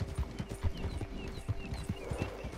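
A horse's hooves clip-clop in a quick trotting rhythm in the Red Dead Redemption 2 video game, close and distinct, with steady repeated hoofbeats and a faint game tone under them.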